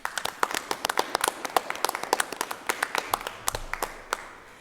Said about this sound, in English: Please join me in giving another round of applause to the Nashville State Community College class of 2020.